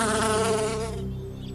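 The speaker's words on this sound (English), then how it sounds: "And a bee sips from a drop of dew." A bee buzzing near a drop of dew, a steady close insect drone that holds briefly and then softens.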